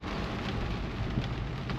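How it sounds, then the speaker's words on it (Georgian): Rain begins to fall, a soft, even hiss of drops pattering on surfaces, faint and continuous with no voices. "აი, წვიმა წამოვიდა."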